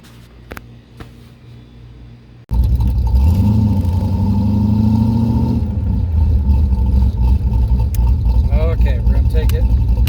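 Car engine on a test drive after a throttle cable adjustment, a loud continuous drone of engine and road noise that kicks in abruptly after a quieter stretch, with pitch rising briefly as it accelerates.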